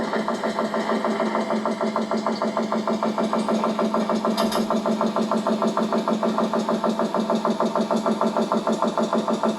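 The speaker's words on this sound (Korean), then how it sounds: "기계 돌아가는 소리입니다" A machine runs with a steady, rapid mechanical throb and regular pulsing beats, constant and fairly loud from start to finish, with a brief knock midway.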